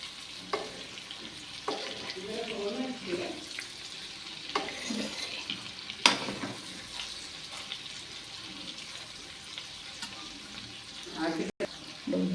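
A ladle stirs a homemade pickle mixture in a pot, making soft, irregular scraping and wet stirring sounds close by, with faint background noise and a few sharper clinks.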